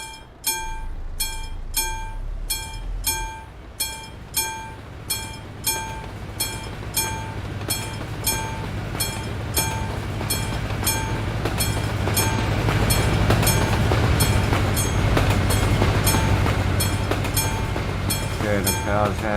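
Train rolling past a railway crossing in Euro Truck Simulator 2: a steady run of rhythmic clicking with crossing-bell pings over a low rumble that swells as the cars pass close by.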